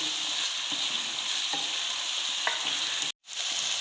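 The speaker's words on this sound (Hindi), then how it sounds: "बस 30 सेकंड मैंने इसे मिक्स किया।" Chanay masala being stirred and sautéed in a pan gives a steady, close frying hiss with faint scraping strokes, then a brief drop to silence near the end.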